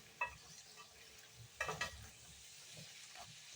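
Spiced potatoes and onion stirred in a skillet on a breakfast stove, with a couple of brief scraping clatters over a low, steady sizzle, close but quiet.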